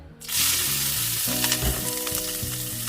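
Finely chopped ginger, garlic and green chillies sauté in hot oil for spinach and paneer curry, a loud steady sizzle that starts abruptly and continues with faint stirring clinks, no voices.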